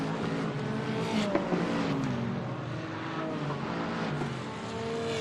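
GT4 race cars in a sim racing game run down the long start-finish straight at Catalunya, a steady, loud engine drone with shifting tones and a brief louder pass, with no talk heard.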